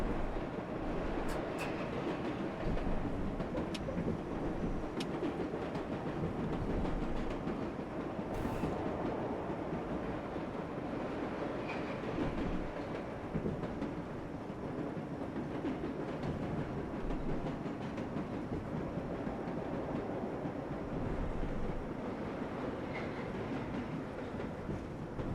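A subway train in the World of Subways 4 game rolls steadily along the track, a continuous low rumble with faint clickety-clack and occasional brief squeals, heard from inside the cab with no talking.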